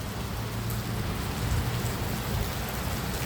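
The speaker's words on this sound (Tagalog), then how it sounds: "Lakas ng ulan." Heavy rain falls steadily in a broad, continuous hiss of drops on surfaces, with faint low rumbling mixed in underneath.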